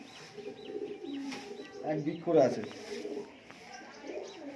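Fancy pigeons in a loft give soft, low cooing, near and fairly quiet, with a few rolling coos rising midway. A person speaks briefly over the birds.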